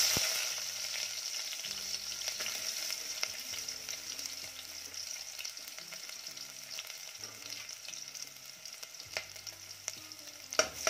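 Onion and ginger fry in a pan for Malvani-style white pea curry, giving a soft, steady sizzle with occasional faint stirring clicks. It is fairly quiet throughout.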